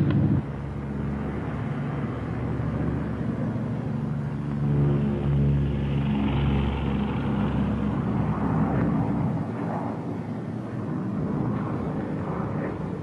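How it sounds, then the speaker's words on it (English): Propeller drone and rumbling engine noise from a WWII P-38 Lightning flying on one engine, a broad steady roar that swells slightly mid-way and fades a little, heard throughout. "Hey, one engine's quit."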